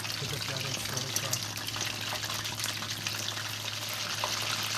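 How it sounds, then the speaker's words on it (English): Chicken strips deep-frying slowly in oil, making a steady, even sizzle and crackle that holds unbroken throughout, with a low hum beneath. "So just let it slowly fry."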